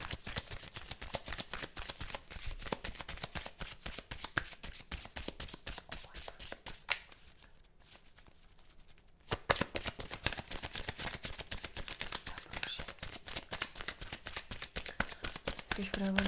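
Oracle cards being shuffled by hand during a cartomancy love reading, a rapid steady riffle of dry papery taps, close and fairly quiet, pausing briefly midway before resuming.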